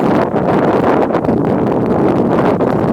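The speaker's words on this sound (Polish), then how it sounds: "tylko ten wiatr niepotrzebnie wieje" Loud, continuous wind buffeting a microphone in the Lasy Królewskie forest in Poland, a dense rushing roar with no voices or other distinct sounds.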